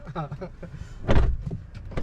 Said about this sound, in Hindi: दरवाजे हैवी हैं लेकिन थोड़ा सा धीरे बंद होते हैं।